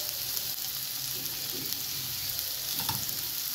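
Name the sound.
onions frying in oil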